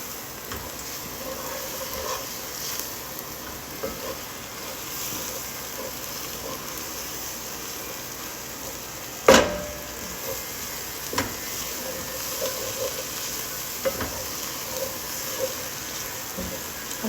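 Flour being stirred into melted butter in a pan for a roux, a quiet steady sizzle with soft scraping stirs close by and one sharp clank partway through.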